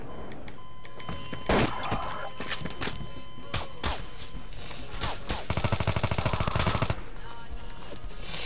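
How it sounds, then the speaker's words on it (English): Automatic gunfire rings out in a Garry's Mod NPC team deathmatch. Scattered loud shots give way to a sustained rapid burst of close, punchy rounds near the end, with no voices. "Stop shooting me."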